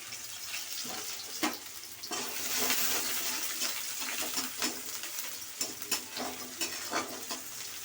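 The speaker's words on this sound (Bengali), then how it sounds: "প্রথমে এই পেঁয়াজ কুচিটা তেলেতে দিয়ে দেবো।" Chopped onion hits hot white oil and fries with a steady, close hiss, punctuated by a few stirring scrapes and knocks against the pan throughout, no voices.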